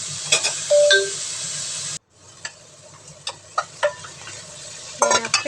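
Vegetables stir-fried in a pan with a little light soy sauce, heard as soft sizzling with scattered scrapes and clinks of a utensil against the pan, a brief pause, then more stirring taps.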